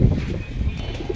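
Pigeons in a cage at a pigeon sale, a low soft cooing close by over a brief moment.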